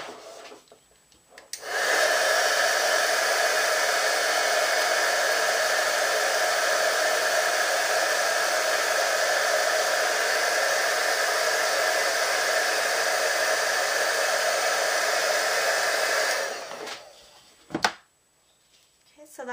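A heat tool runs for about fifteen seconds to melt embossing powder on a colored stamped image. It gives a steady, loud, close blowing whoosh that starts abruptly and cuts off, followed by a few small handling sounds.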